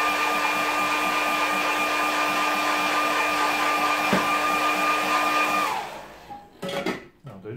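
A hair dryer blows steadily on a watercolour snow scene painting, a loud, constant whirring roar with a steady hum that cuts off near the end, followed by quiet handling noises.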